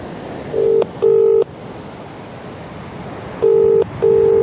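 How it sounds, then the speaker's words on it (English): Mobile phone ringing out on speakerphone outdoors by the sea at Southbourne, with two pairs of loud, steady electronic ring tones separated by a pause, over a constant wash of wind and surf. "I'm just going to put it on speakerphone"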